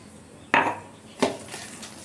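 A spoon knocks against a bowl while eggless cake batter is stirred, giving two distinct clinks about three-quarters of a second apart, each followed by a brief scraping tail over a soft, steady background.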